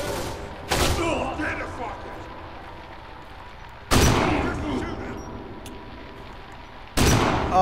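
Heavy shotgun blasts from the video game Kane and Lynch 2: Dog Days, three loud booming shots spaced a few seconds apart, each trailing into a rumbling decay over background game noise.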